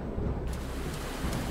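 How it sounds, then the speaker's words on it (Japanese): Heavy downpour and thunder in the visual novel Kannagi Meiro, a dense, steady roar of rain with low rumbling underneath at night on a foggy road, and no voices. "最初は小雨だったがやがて土砂降りに変わった"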